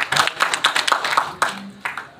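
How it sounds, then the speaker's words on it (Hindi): A small press-conference audience claps for a biopic announcement, a handful of close, distinct hand claps in an uneven rhythm with brief pauses, slightly thinning toward the end. "जोरदार तालियां"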